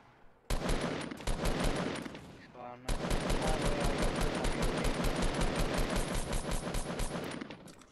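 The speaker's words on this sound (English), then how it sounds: "Who was shooting the minigun?" A Fortnite minigun fires in long, rapid, loud bursts, one short burst, a brief pause, then a sustained stream of tightly spaced shots.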